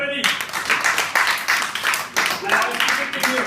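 A group at a debating training session breaks into steady, dense applause that starts abruptly and keeps going at an even level throughout, with many hands clapping close by.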